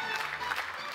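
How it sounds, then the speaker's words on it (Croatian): A theatre audience in Toronto giving a standing ovation, a brief burst of steady crowd clapping at moderate volume. "Stojeći aplauz publike u Torontu bio je više nego zaslužen."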